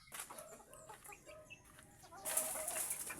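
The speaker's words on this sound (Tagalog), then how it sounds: "Po, marami po manok." Chickens on a poultry farm clucking in short, scattered calls, close and moderately loud, with a brighter, busier burst of clucking near the end.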